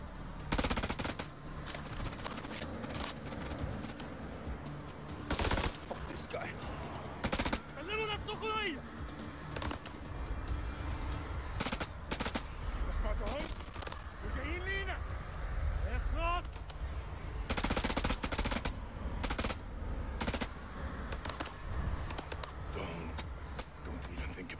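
Sustained automatic gunfire crackles in the video game House of Ashes, with long rapid bursts and single sharp shots over a rumbling game soundtrack. Players talk over it now and then.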